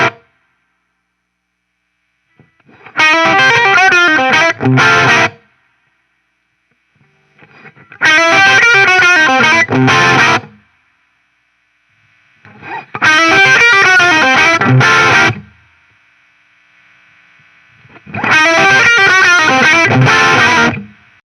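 Electric guitar played through a Fender Duel Pugilist distortion pedal with the gain raised, four loud strummed chord phrases of about two to three seconds each, separated by silence, with no talking.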